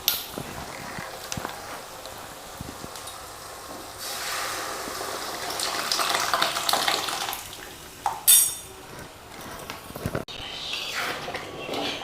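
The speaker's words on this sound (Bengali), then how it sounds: "এখন আমরা সিদ্ধ করা ডালটা দিয়ে দেব।" Boiled lentils are poured into a pan of tomato and masala frying in oil, a soft wet pouring and sloshing sound with scattered clinks of utensils against the pan and a brief sharper splash near the end.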